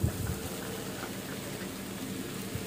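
Cut broad beans (avaraikai) sautéing in a pan over a medium flame for kara kuzhambu, giving a steady, soft sizzle and crackle with no voices.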